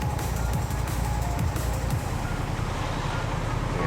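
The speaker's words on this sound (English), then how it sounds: "I'm breathing this exhaust behind this fucking stinky ass truck." A truck rumbles just ahead in Tokyo-area road traffic, heard from a motorcycle ride as a steady low engine drone mixed with wind rush over the microphone, loud and continuous throughout.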